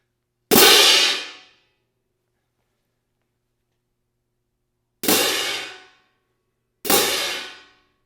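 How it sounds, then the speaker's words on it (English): Three bright cymbal crashes ring out alone: one loud hit that decays over about a second, then after a long silence two more, each cut short by dampening. "let the cymbal sound like a cymbal before you dampen"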